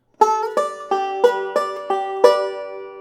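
Clean plucked guitar notes ring out one after another, seven crisp picks in an even rolling rhythm, the first sliding up into pitch.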